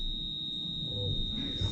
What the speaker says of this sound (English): Oh, it's the security alarm.